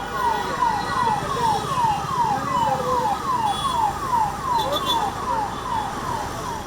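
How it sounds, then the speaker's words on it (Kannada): An ambulance siren wails steadily with a rapid repeating up-down tone, loud and continuous over traffic noise, stuck in a traffic jam on Sarjapura Road in Bengaluru. "ಇವತ್ತು ಎರಡು ಆಂಬ್ಯುಲೆನ್ಸ್ಗಳು ಸಿಲುಕಿಕೊಂಡು ಪರದಾಡಿದವು"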